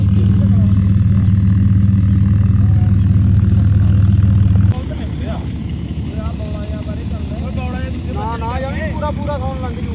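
A new tractor's heavy engine rumbles loudly and steadily, its tone shifting abruptly partway through, with voices talking over the drone.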